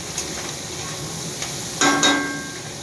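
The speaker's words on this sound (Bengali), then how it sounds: "এটা লাল লাল করে একটু ভাজবো।" Pitha, a salted rice-flour cake, frying in a pan on the stove beside a second pan, with a soft steady sizzle that swells louder in a short burst near the end over a faint background hum.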